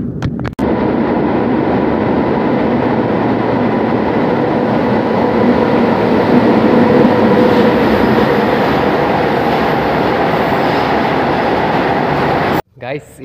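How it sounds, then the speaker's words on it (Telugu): A train runs loud and near past a railway tunnel on the Obulavaripalli–Krishnapatnam line, a dense sustained roar and rumble that fills the whole stretch before cutting off abruptly at the end. "బండి అయితే వచ్చేస్తుంది అనమాట దగ్గరికి."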